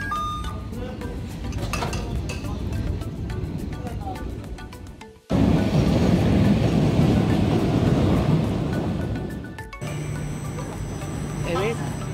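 An Istanbul metro train ride: a loud, constant rumble of the moving carriage with rattles and clinks, a sudden louder surge midway, then a quieter hum with tonal whines near the end.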